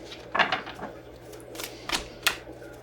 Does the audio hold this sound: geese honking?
no